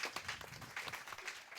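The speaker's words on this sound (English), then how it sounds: "give yourself an applause as well" Applause from an audience at a Q&A talk on future mediums for creative output, a dense, steady patter of many hands clapping, fairly faint and heard alone.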